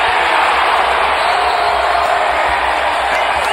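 A roaring basketball playoff crowd in Memphis during a Grizzlies–Blazers game, a loud steady wall of cheering that holds at full volume throughout without a break.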